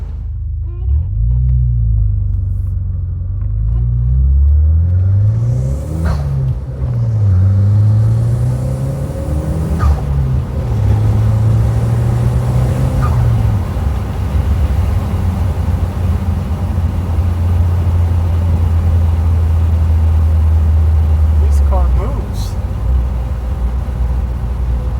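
A 2011 Saab 9-5 Turbo4 with a billet turbo pulls hard on a road, its loud engine drone rising and dipping through gear changes with a steady rumble inside the cabin and a faint hiss of the blow-off valve.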